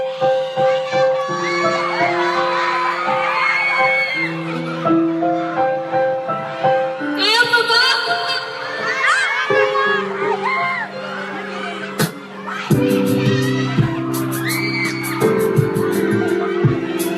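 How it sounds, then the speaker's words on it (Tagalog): A lively crowd at a live teen performance cheers and shouts in bursts, with whoops and children's high voices over music, and someone speaks on a microphone toward the end. "Lovely crowd, lovely crowd."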